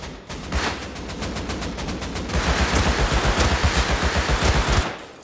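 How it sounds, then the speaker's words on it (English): Rapid automatic gunfire in the console edition of the survival game Rust, sustained and loud, with a steady rhythmic stream of shots that grows denser and heavier partway through and then abruptly stops. "One dead, keep shooting."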